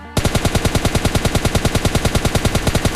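Automatic gunfire in the PUBG Lite video game comes as one loud, rapid, evenly spaced burst of shots running almost without pause.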